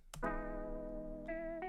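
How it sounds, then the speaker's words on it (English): A sustained synth chord with a shimmering, gently wavering chorus texture, held steady before shifting notes near the end, no voices. "this is a chorus effect"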